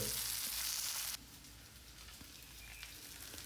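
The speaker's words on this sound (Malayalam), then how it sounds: "രസമാണ് മത്തി വറുത്തത്" Small sardines fry in hot oil with a loud, dense sizzle that abruptly drops to a quieter, steady crackle partway through.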